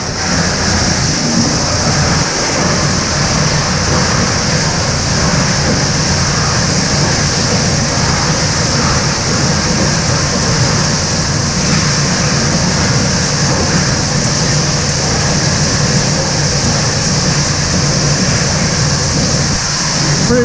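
Zerma GSC 500-700 plastic granulator with a 50 horsepower three-knife rotor and 8 mm screen, running as a loud continuous industrial roar and grinding rumble, steady throughout and close.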